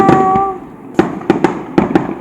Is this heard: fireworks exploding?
yes